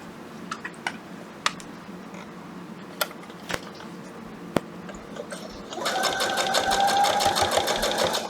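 Sewing machine stitching a hooded towel for a child, starting after a few scattered clicks and taps, then running steadily and fairly close for the last few seconds.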